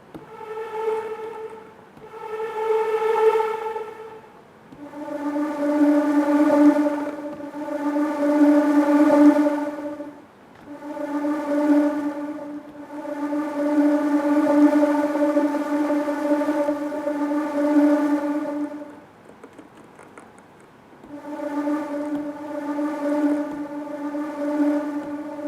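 Organic ocean-style synth pad built from field recordings on an MPC sampler: sustained tonal swells in a steady series of long notes with soft attacks, rising and fading, heard alone.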